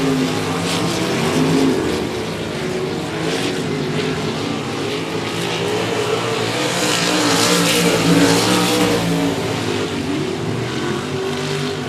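Race cars at 105 Speedway roar steadily and loudly through the whole stretch, with several engines overlapping in a continuous rumble that swells slightly near the end.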